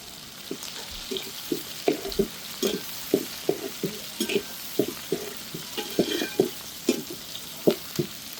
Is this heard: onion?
yes